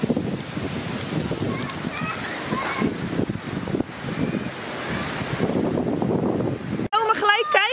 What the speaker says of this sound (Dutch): Het waait echt ontzettend hard